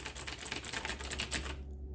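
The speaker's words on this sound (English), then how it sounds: "uses Cherry MX Blue switches for a great typing, clicky feel that I just love" Keys clatter on the cramped keyboard of a 1990 Bondwell B200 vintage laptop with Cherry MX Blue switches, a quick, even run of crisp clicky keystrokes close up that stops abruptly.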